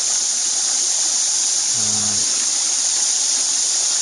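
A creek flows at the base of a campsite, making a continuous broadband rushing hiss that holds steady throughout, with a brief low hum partway through and no voices.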